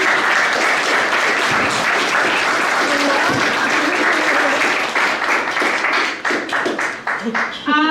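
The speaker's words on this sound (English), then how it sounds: "Can we have another round of applause for Stefano and Irene?" A crowd at a studio launch event applauds two people with loud, steady clapping that thins out toward the end, leaving a few scattered claps and some voices as it fades.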